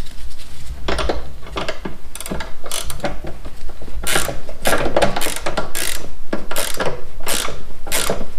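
A ratchet tightens bolts on a Troy-Bilt snow blower, close and loud clicking in repeated bursts of quick pawl clicks, pausing briefly between strokes, with no talk.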